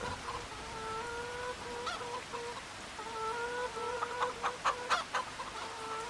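Chickens cluck in repeated short calls in the farming game Farming Simulator 25, moderately close over a soft steady ambient bed, with a few sharper clucks toward the end.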